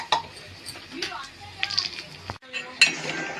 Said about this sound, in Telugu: రవ్వను కూడా వేపేసుకోవాలి.